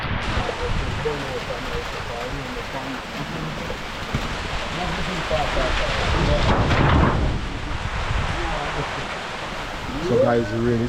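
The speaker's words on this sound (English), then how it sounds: "The rain came down and it is pouring." Steady, dense hiss of heavy rain pouring down throughout, with faint voices murmuring underneath and a brief rumble near the end.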